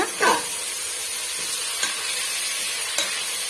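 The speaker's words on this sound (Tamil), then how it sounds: "சேர்த்துட்டு இந்த தக்காளி பழம் ஒரு அளவுக்கு நல்லா மசிச்சு வர்ற வரைக்கும் நம்ம வதக்கி விட்டுக்கலாங்க." Tomatoes with coriander sauté in a hot pan for tomato rice, a close, steady sizzle broken by a few scraping stirs at the start and occasional light clicks.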